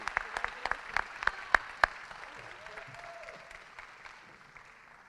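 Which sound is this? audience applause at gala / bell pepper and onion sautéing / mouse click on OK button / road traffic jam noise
audience applause at gala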